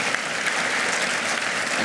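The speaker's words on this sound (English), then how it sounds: "Applause to Kate Ruby." Brief burst of dense audience applause at a lecture, a steady, even wash of many hands clapping with no individual claps standing out.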